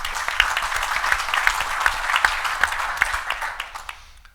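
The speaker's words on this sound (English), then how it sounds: "Let's give him a round of applause." A room full of people applauds at a committee event, dense steady clapping that holds for about four seconds and then thins out and fades.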